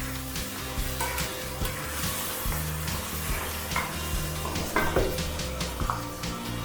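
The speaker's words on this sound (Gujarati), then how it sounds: "ટામેટાને બહુ વધારે ચડવાના નથી અને મિક્સ કરી લઈશું." Large tomato pieces are stirred into vegetables in a hot pan for a vegetable cheese pulao, with a steady sizzle of frying and the occasional soft scrape of a spoon, close up and without talk.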